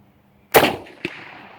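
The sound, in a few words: gunshot from an old Gew 98 rifle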